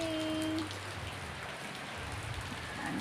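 Light rain patters steadily on surfaces, a soft continuous hiss with a brief tonal hum at the start.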